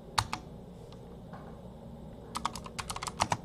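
Quick clicks of a computer keyboard as a short Linux terminal command is typed, a couple of isolated keystrokes first, then a fast cluster of presses after a pause, close and fairly quiet.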